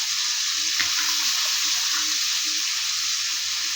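Potatoes and beef dropped into hot oil for a spiced beef bhuna, a steady close sizzle with stirring and a soft clatter near the start.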